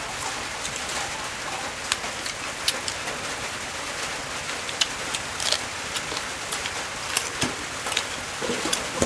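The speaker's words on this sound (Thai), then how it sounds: "ฝนกระตกเลยเนาะ" Steady rain falling outdoors, a dense even hiss with scattered louder drips, while a bird coos faintly in the background.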